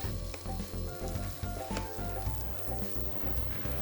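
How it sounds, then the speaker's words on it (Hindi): Ginger garlic paste fries in hot oil, producing a dense, loud, continuous sizzle with crackling pops and occasional stirring scrapes, heard close up with no talking. "अब इसको भूनेंगे कब तक, जब तक कि अदरक लहसुन पेस्ट का कच्चापन ना मर जाए।"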